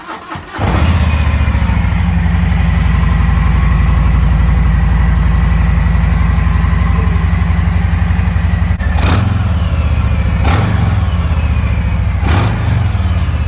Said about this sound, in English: Okay, here is the stock exhaust.